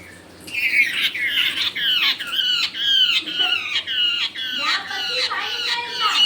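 Loud, repeated harsh squawks from a nearby bird, coming in quick bursts one after another with little pause between them.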